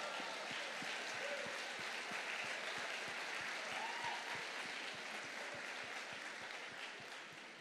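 A church congregation applauds at a moderate distance, a dense wash of clapping with a steady rhythmic beat running through it that fades slightly toward the end.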